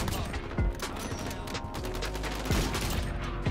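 Gunfire from weapons in Modern Warfare, including MK2 and AX-50 sniper rifles, rattles as a dense fusillade of shots with heavy low thumps and a couple of sharper louder blasts, continuous throughout.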